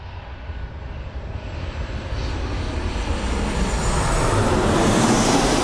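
Jet2 airliner arriving at Birmingham Airport, a steady broadband jet roar that swells gradually louder as the aircraft approaches, with no voices over it.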